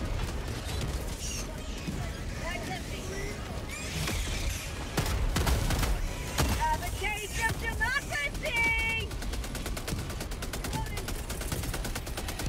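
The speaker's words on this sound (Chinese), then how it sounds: "可恶，那个机枪！" Machine gun fire in Helldivers 2 during a bug mission to nuke a nursery, rattling rapid bursts amid mechanical clatter and a busy battle din, growing denser toward the end, with voices in between.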